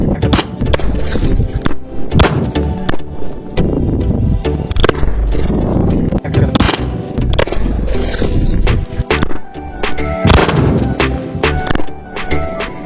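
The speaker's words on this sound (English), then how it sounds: "So guys, the cannon has been filled up. Now let's test it. This is how it fires." Homemade Iron Man-style arm cannon firing, a rapid string of sharp cracking bursts and pops with crackle and clatter between them, loud and close throughout.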